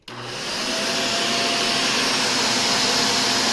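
A Shark Rotator vacuum cleaner switches on and runs at a steady, loud whine with a broad airy roar, reaching full speed within about half a second and holding constant, close to the listener.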